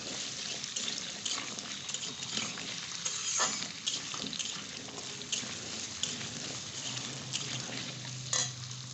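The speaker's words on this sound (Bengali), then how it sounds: "আলুগুলো তেলের সঙ্গে ভালো করে নেড়ে নেব।" Potatoes fry in oil with dried red chilies and nigella seeds, a soft, steady sizzle broken by scraping and clinking as a spoon stirs them in the pan.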